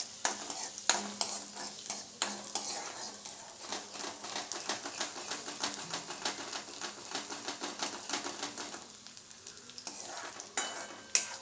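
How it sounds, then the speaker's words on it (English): Garlic and mixed vegetables sautéing on a very high flame for a Manchurian, with a steady sizzle and rapid, repeated clicks and scrapes of a utensil stirring the pan, close and continuous. "So I'll put the garlic into it. I'll saute it."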